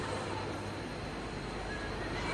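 A steady, dense rumbling roar heard from inside a moving train carriage at Uran, constant and moderately loud throughout, with no speech.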